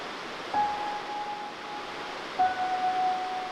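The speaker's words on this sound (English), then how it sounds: "Here we are at this magnificent Stevenson Falls" Stevenson Falls near Marysville roars as a steady, broadband wash of falling water, with a couple of faint thin tones drifting over the constant rush.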